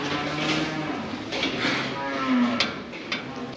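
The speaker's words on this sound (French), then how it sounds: "j'ai bien nourri mes vaches." Cows moo in a farm setting after being fed, several drawn-out calls overlapping at moderate distance over a low background hum, with no talking.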